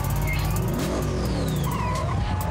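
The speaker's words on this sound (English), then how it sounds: "Racers, start your engines." Race car engines roar and rev loudly at a street race in Rio from Fast X, with rising whines and a possible tyre squeal, dense and continuous throughout.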